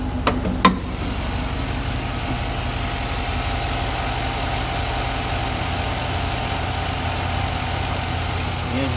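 The Vortec engine of a 2012 Chevrolet Silverado idles with a steady, loud, low rumble that continues unchanged throughout, preceded by a couple of brief knocks at the start.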